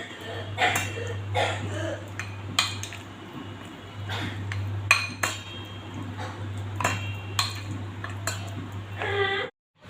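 Red chilli powder and garam masala stirred together in a bowl with a spoon, sounding as repeated close clinks and scrapes of metal on the bowl over a steady low hum, with no talking.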